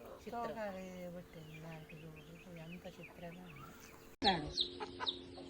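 A hen clucks among her newly hatched chicks in a farmyard, soft repeated clucks and chirps close by, mixed with people talking, then a sharp burst of louder calls near the end.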